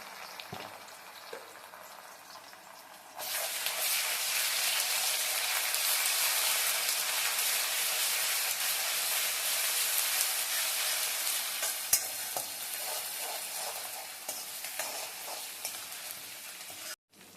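Ginger garlic paste sizzles and fries in a hot pan for egg cube fried rice, a steady loud hiss that jumps up suddenly after a quiet start, with occasional scraping stirs and no talking.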